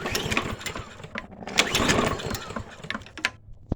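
Toro 22 inch Recycler walk-behind lawn mower, a free unit needing repair, cranked by its pull starter in short mechanical bursts of whirring and rattling that do not catch, close by and moderately loud.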